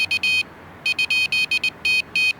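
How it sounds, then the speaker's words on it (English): Electronic bite alarm on a carp fishing rod, triggered when the line is pulled, sounds in rapid, sharp, high-pitched beeps, some single and some run together in longer bursts, loud and close with no talk. "whenever your line gets pulled, your little alarm goes off"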